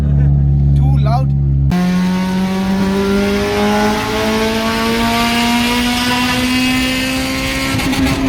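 Honda Civic Type R fitted with an M2 Hornet exhaust and solid engine mounts, revving hard and loud up close, the engine note climbing steadily in pitch as it pulls, with a brief burst of voices at the very start.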